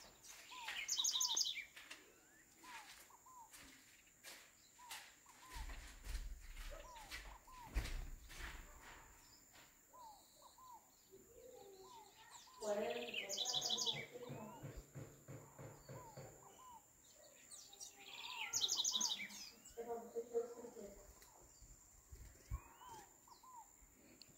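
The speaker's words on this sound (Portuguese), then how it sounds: "aqui os barulhos que você ouve são de passarinhos, viu?" Scattered bird chirps and short calls, moderately distant, with a few louder bursts of chirping and faint rustling or footsteps between them.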